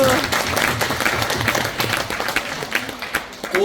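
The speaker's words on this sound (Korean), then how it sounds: "박수." Hall audience claps steadily at a book launch celebration, dense and continuous at moderate loudness, with a faint voice occasionally beneath.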